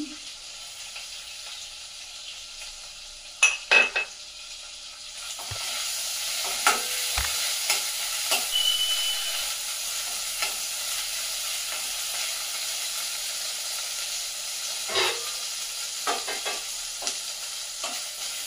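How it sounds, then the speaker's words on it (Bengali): Ginger paste, cumin seeds and chopped green chilli fry in a pan, a steady close sizzle punctuated by repeated spatula scrapes and clacks against the pan, with no talking. "আদাটা একটু ভাজা ভাজা হয়ে যাবে"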